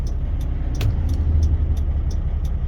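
Snow plow truck creeping slowly along an icy road, a steady low engine rumble heard from close by with a string of sharp, evenly spaced clicks over it and no speech.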